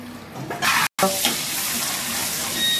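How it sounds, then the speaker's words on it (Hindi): Chopped garlic frying in hot oil in a pan, a steady loud sizzle with a brief sharp cut partway through, hissing on evenly without any voice. "सबसे पहले ऑयल डालेंगे हम, चॉप गार्लिक"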